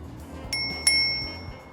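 A bicycle bell on an e-bike, a model with a hidden AirTag compartment, pings twice in quick succession with bright metallic rings that linger, heard close up without speech.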